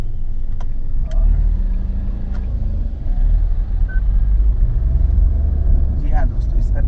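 Nissan Magnite turbo CVT accelerating in sport mode with traction control off, a loud, steady low engine drone and road rumble filling the cabin, with a few faint clicks over it.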